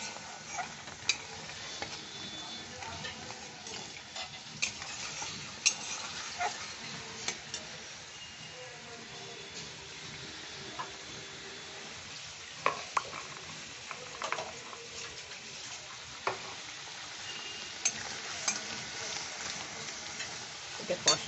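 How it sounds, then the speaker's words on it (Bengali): Katla fish masala with coriander sautés in a pan as small splashes of water go in. A low, steady sizzle carries on throughout, dotted with occasional soft spoon scrapes and taps against the metal. "একটু একটু করে কষে নিচ্ছি।"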